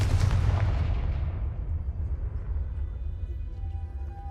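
A Confringo fire spell cast in Hogwarts Legacy lets out one loud, near blast that rumbles on and trails away over several seconds, with faint tonal game sounds near the end.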